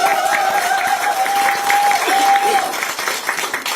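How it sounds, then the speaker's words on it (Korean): An audience at a Korean political party meeting applauds steadily and fairly loudly, a continuous wash of clapping with a faint sustained tone running beneath it. "우리 정청래 대표님께 그럼 박수 한번 보내주시면 좋겠습니다"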